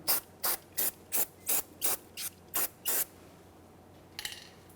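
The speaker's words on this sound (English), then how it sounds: "We'll use some parts cleaner in this area." Parts cleaner is sprayed from an aerosol can onto a car's rear wheel hub during a wheel bearing replacement on a 2010-2013 Kia Forte Koup, nine short, evenly spaced hissing bursts followed by a brief rattling spray.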